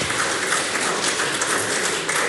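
Applause fills the New Zealand Parliament debating chamber during an urgent Budget sitting, a steady, evenly dense roar of many hands clapping together, loud and unbroken with no speech over it.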